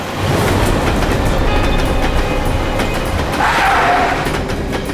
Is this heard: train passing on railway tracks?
yes